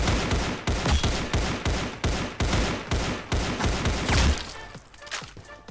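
Rapid rhythmic gunfire in a Roblox game, a steady string of loud close shots at an even pace that stops abruptly near the end.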